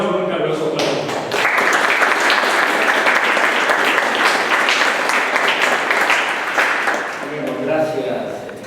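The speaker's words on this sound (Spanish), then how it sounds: "recibamos con un caluroso aplauso" A lecture audience gives warm applause for a physics talk, a loud and full clapping crowd that swells after a second and holds steady, with voices briefly audible at the start and end.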